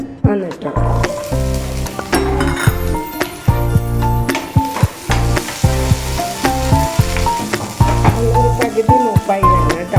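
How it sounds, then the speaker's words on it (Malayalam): Small shallots frying in a spoonful of oil in a pan for a kingfish curry, a loud continuous sizzle with scraping stirs throughout, close, with some talking mixed in. "ഒരു ചെറിയ സ്പൂണിൽ എണ്ണ ഒഴിച്ചു കൊടുക്കാം കേട്ടോ എന്നിട്ട് അതിലേക്ക് ചെറിയ ഉള്ളിയാണ്"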